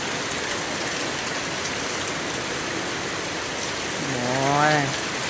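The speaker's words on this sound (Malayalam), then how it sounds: "എന്തൊരു മഴ!" Heavy sudden downpour, a dense loud hiss of rain pounding surfaces that continues unbroken, with a brief rising mechanical whine near the end.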